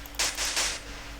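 Three bursts of bright white-noise crash percussion in a progressive house / melodic techno production, each a short hissy wash of roughly a fifth of a second, loud and dry with no other sounds.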